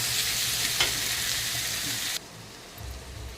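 Chopped tomato sizzles steadily in a hot pan for a mutton curry, then the hiss drops off abruptly to a quiet low rumble.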